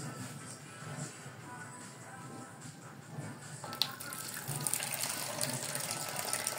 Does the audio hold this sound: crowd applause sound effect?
no